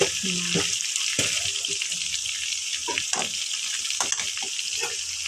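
Chicken with drumstick leaves, chili powder and salt stirred in a pan, sizzling hiss under repeated scraping and clacking spoon strokes, close and fairly loud, with a few faint knocks.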